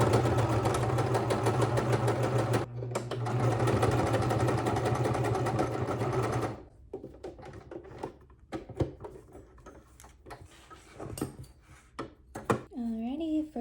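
Sewing machine stitching a slip dress seam with high tension and short stitch length, a steady mechanical whir running loud for about six seconds with a brief dip, then stopping before quieter handling noises and a short voice-like sweep.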